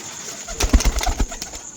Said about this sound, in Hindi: बहुत कम लोगों के पास है ये कबूतर इस वक्त